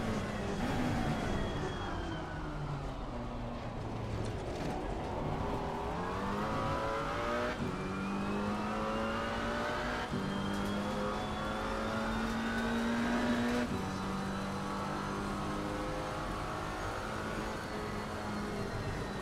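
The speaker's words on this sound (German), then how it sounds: "versuchen wir mal eine erste gezeitete Runde im Regen zu fahren" A McLaren GT4 race car laps a wet track in Assetto Corsa Competizione, its engine climbing in pitch through each gear and dropping sharply at the shifts, a continuous revving whine with faint tyre noise.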